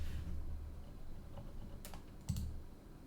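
A few quick keystrokes tap on a computer keyboard, soft and close, over a low, steady background hum.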